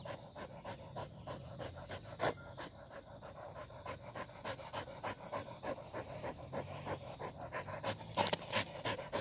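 A dog pants steadily and rapidly at close range for the whole stretch, rhythmic breaths with a few louder gasps, outdoors in the heat during a break in a walk with several dogs on leashes.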